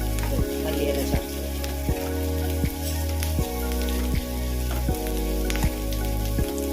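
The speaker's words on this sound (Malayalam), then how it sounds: "പൊട്ടുകടല, കുരുമുളക്, ഗ്രാമ്പു, എന്നിട്ട് ഇതൊന്ന് വഴന്ന് വരുമ്പോൾ പിന്നെ മല്ലിയില ചേർത്ത്." Roasted gram, pepper and cloves frying in oil in a pan for chicken curry, a busy crackling sizzle close up with a repeating low thump pattern beneath, no talk.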